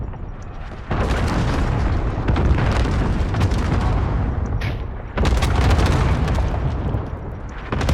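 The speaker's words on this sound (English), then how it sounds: "Allied cruise missile launched" Allied cruise missile strike in a multiplayer shooter match, heard as a dense, loud roar of explosions and rumbling blasts that swells at about one second and surges again near five seconds.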